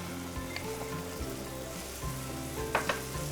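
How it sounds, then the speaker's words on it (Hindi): Curd goes into a hot pan, where a loud, continuous sizzle and frying hiss carries a couple of faint stirring clinks, close up with no talking. "इसमें हम डालेंगे थोड़ा सा कर्ड"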